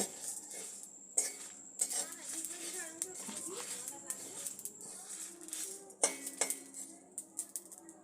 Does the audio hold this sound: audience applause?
no